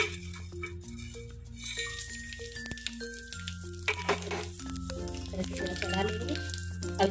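Whole spices hiss and crackle in hot oil for soybean sabji, a steady sizzle running underneath a person talking over soft background music.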